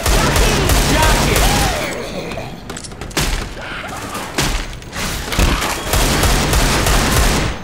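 Heavy gunfire in the zombie shooter Left 4 Dead 2: dense, continuous bursts of automatic fire with thudding booms, loud and close throughout, easing slightly mid-way before picking back up.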